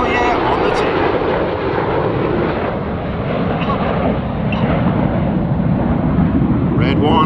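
Red Arrows jet pulling up to the vertical trailing red, white and blue smoke at the Miramar airshow, a sustained loud engine roar rumbling across the field throughout.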